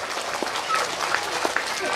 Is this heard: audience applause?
yes